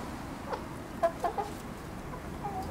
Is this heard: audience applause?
no